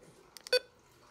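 A Midland HH54 weather radio giving a few short low-pitched electronic beeps, close and clear, the last one slightly longer, against a quiet room.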